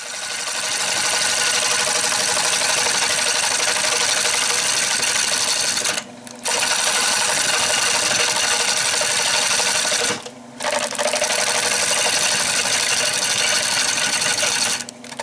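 A wood lathe turns a catalpa bowl in a loud, steady mechanical whine with a dense hiss. It runs almost continuously, broken by two short dips where the sound cuts out briefly before resuming.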